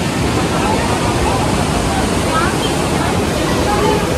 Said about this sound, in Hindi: और ये है पार्वती नदी, अमेजिंग वाली